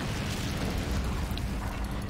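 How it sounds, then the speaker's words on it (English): A tank's high-explosive shell detonating in the war game Men of War: Assault Squad 2, a dense, sustained rumbling blast with heavy low-end roar filling the whole moment. "the game does a fair job at modeling the explosion"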